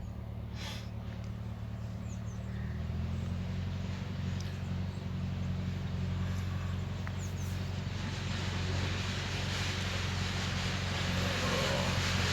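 A tractor driving along a narrow lane behind a fishing swim at a lakeside fishery, a low steady engine drone that swells slightly as it approaches, faint and continuous through the clip.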